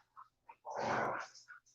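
A dog indoors gives a low throaty growl that swells in the middle, with short whimpers and snorty breaths around it, close but fairly quiet and with no talk.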